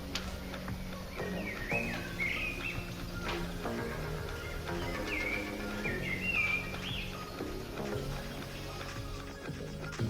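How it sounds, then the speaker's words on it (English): Birds chirp and trill in short bursts outside a balcony near Venice, fairly faint over a low steady background hum. "Outside a nice little balcony with some views and you can listen to the birds"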